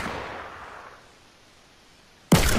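A single sharp, loud sniper rifle shot in a console shooter-builder game cracks out abruptly near the end, after a stretch of quiet ambience.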